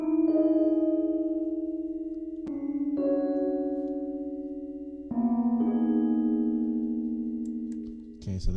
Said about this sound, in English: So this is what the piano sounds like, the Rhodes